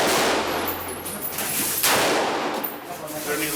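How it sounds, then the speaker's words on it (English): Rapid gunfire from an H&K 53 rifle rings out loud and close in quick bursts over about three and a half seconds, with sharp reports and echoing tails. "I'm a big H&K fan, so of course I had to shoot the H&K 53"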